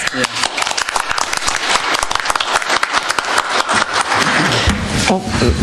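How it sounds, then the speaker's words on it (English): At a Baldwin County Commission regular meeting, a room of attendees claps in a lively round of applause, uneven and close, with voices talking over it toward the end. "So we'll give Brittany a round of applause"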